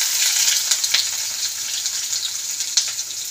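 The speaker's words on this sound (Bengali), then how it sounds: "এবার কালো জিরে, তার সাথেই পেঁয়াজটা দিয়ে দেবো" Onion and nigella seeds frying in hot oil with dried red chili in a pan, a steady close bright sizzle with small crackling pops throughout, no voices.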